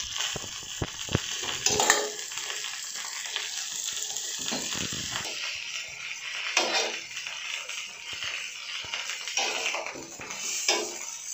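Gola kababs cooking slowly on a hot pan in a restaurant-style kitchen, a soft continuous sizzle with occasional scrapes and light clatter, fairly quiet and close, no speech.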